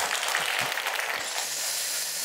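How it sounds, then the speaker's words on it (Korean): Congregation applauding in a church during an early-morning worship service, a steady dense wash of many hands clapping at once, continuous and fairly loud throughout. "박수 한번 하시죠."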